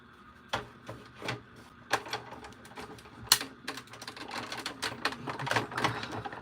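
Electronic cutting machine working through card, a series of irregular mechanical clicks and whirring thuds close by, with no talk over it.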